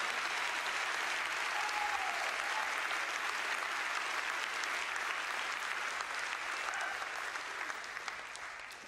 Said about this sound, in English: would you clap your hands because you know he's good?